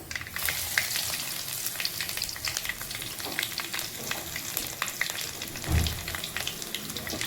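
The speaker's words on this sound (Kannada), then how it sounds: "ಸ್ವಲ್ಪ ಸಾಸಿವೆ ಸಿಡಿದ ಮೇಲೆ ಒಂಚೂರು ಜೀರಿಗೆ ಹಾಕ್ತಾಯಿದ್ದೀನಿ ಒಂದು ನಾಲ್ಕರಿಂದ ಐದು ಬೆಳ್ಳುಳ್ಳಿ ಜಜ್ಜಿಟ್ಕೊಂಡಿರೋದು" Cumin and crushed garlic sizzle steadily in hot oil after mustard seeds splutter, a continuous close frying hiss with small crackles and an occasional stir, no talking.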